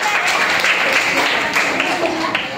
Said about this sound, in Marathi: सगळ्यांनी टाळ्या वाजवायच्या